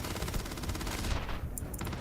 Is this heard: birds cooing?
no